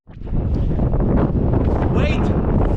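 Strong wind blasts across the microphone outdoors in a city, a heavy continuous roar and rumble that rises quickly and stays loud, with a voice audible underneath.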